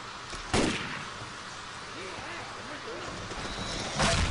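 Gunshots from the Left 4 Dead 2 Dead Centre campaign, two sharp reports about three and a half seconds apart, heard over steady game ambience with talking in between.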